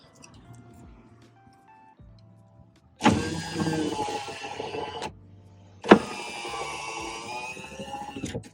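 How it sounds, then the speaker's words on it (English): Electric power window motor in a Toyota Land Cruiser 80 Series, running twice in long whirring strokes, each a few seconds, close and fairly loud, with the engine off and quiet ambience between. "Window rolls up and down way better."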